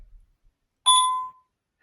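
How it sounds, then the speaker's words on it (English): ADT Safewatch Pro alarm panel in test mode giving a single short, clear electronic beep after near silence. "it'll beep every few seconds to let you know that it's in test mode"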